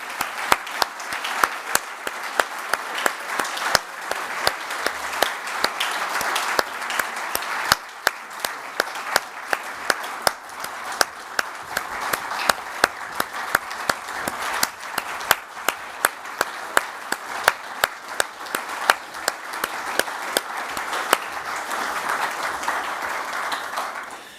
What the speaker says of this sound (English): I think we should give all of them a big round of applause